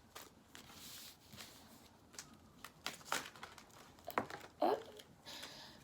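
Tarot cards are shuffled by hand, making light, irregular flicks and soft slaps close by, with a few sharper snaps over a quiet background.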